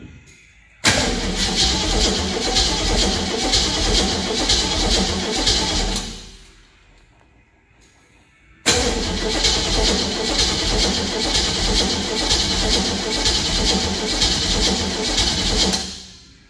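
Car fuel pump running during an engine build on a VC Brock: two loud, steady, sustained runs of about five and seven seconds, separated by a quiet pause.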